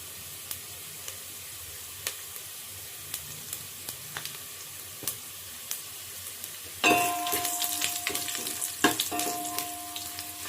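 Onions frying in a pan for vegetable sambar: quiet close sizzling with sparse sharp ticks and clinks of a utensil, then a louder burst of sizzle and stirring with metallic ringing toward the end.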